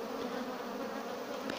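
Honeybees in a freshly split beehive hum as a dense, steady buzzing swarm, continuous and close, with no voices over it.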